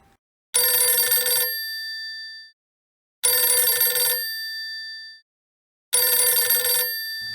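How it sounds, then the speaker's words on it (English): A telephone bell rings three times in long, evenly spaced bursts, each loud and close with a bright metallic trill followed by a brief silence. "I received a phone call from my big brother, Wendell Jones."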